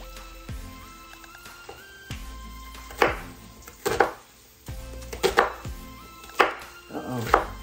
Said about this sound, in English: I'm finna cutting up the onion.